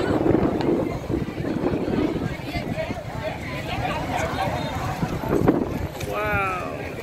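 Strong wind blows across an outdoor campsite under gathering dark clouds, buffeting and rumbling hard against the microphone. People talk through most of it.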